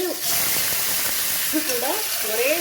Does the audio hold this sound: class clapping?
no